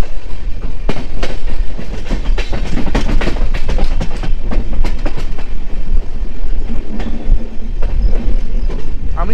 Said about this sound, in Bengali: চলে যাচ্ছে ৬৩-৩০৫ কাটিহার সোনপুর মেমু।